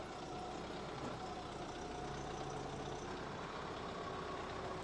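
The Yuchai engine of a 75-class excavator runs at a steady idle, a continuous low diesel rumble with a faint whine on top, heard up close with no talk over it.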